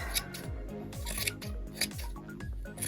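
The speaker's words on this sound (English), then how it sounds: "I'm going to use my bigger scissors too." Scissors snip repeatedly in a quick, uneven rhythm, close up and fairly quiet, trimming a yarn pom-pom.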